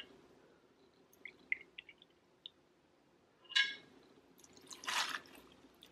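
An ounce of gin poured over ice for a slow screwdriver cocktail: soft scattered drips and clinks, then two short liquid bursts of pouring, close and fairly quiet, with no talking.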